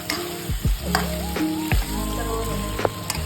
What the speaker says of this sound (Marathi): हे बटाटे आपण चांगले फ्राय करून घेऊया